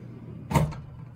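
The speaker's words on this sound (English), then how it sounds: "this drawer is a little wonky, so I really have to like push it hard sometimes" A wonky dorm drawer is shoved shut hard, a single short wooden thud and rattle in an otherwise quiet room.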